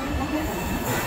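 Dibrugarh Rajdhani Express train arriving at a station platform, a steady near rumble of wheels and carriages with some rail squeal, continuous and fairly loud through the short moment.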